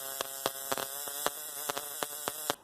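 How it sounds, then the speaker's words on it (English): A trembler coil, also called a buzz coil, sparks with high voltage, giving a steady harsh electrical buzz broken by irregular sharp snapping cracks, close and fairly loud. "I can create this kind of bluish light with this trembler coil, also known as a buzz coil"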